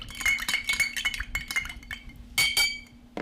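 An Old Fashioned cocktail stirred in a glass with a bar spoon, bright rapid clinks and rattling of metal against glass and ice in quick irregular bursts, close and clear.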